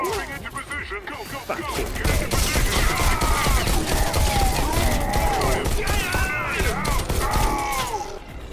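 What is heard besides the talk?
gunfire in the VR game Bullet Train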